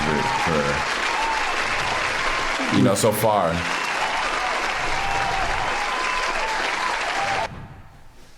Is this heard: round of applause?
yes